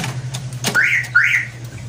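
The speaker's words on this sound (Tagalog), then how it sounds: "Toyota Rush Tradition Car Alarm" Aftermarket car alarm installed on a Toyota Rush, a sharp click followed by two rising electronic chirps in quick succession, loud and close over a low idle hum.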